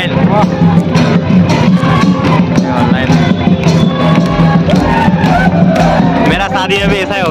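A dense crowd gathered at an election result celebration, a loud, continuous roar of chatter and shouts close by, with bursts of cheering over a steady babble of many voices.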